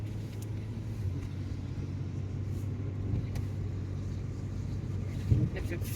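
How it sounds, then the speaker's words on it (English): A van rolls along a dirt and gravel road, giving a steady low engine rumble and road drone with occasional light bumps and rattles, close and continuous throughout. "I think I'm now traveling on some dirt road"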